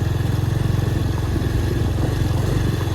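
Motorcycle engine with a modified silencer exhaust, a close, loud, steady rhythmic thumping idle that holds even throughout with no talk.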